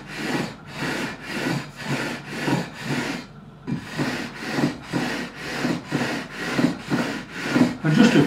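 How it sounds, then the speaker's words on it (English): Someone levels stainless steel guitar frets with 400 grit abrasive, making about a dozen close, even back-and-forth rubbing strokes in a steady rhythm, with one short pause in between. "So just a few strokes with this 400 grit and we should be done."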